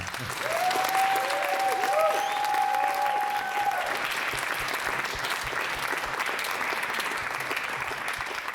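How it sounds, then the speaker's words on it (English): An audience applauds at an opera festival academy event, a full steady wash of clapping for the participants, with a brief sustained tonal whine over the first few seconds before the clapping continues alone. "So maybe I'd like a huge applause for the 13 participants to perform yesterday."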